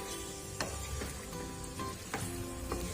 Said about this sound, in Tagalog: Kumulo na siya. Ayan, lumabas na yung mantika niya.